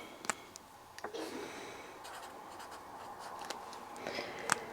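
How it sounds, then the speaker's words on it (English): A pen writes a short note by hand in a quiet room, soft scratchy strokes with a few sharp taps and clicks, close and faint. "So I'm just going to write that down for now."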